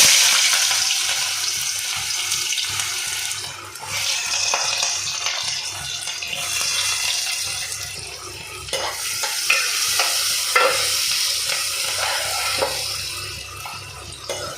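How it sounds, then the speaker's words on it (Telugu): Chopped onion and green chillies sizzle steadily in hot oil, with scraping stir strokes from a spoon against the pan and a continuous close, moderately loud frying hiss throughout, no talk. "హీట్ అయిన తర్వాత ఆనియన్, పచ్చిమిర్చి వేసి ఫ్రై చేసుకుందాం."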